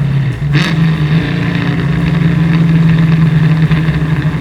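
A 550 hp 1963 Ford Falcon race car engine drones loudly and steadily while driving, a deep continuous rumble heard close up with no talking.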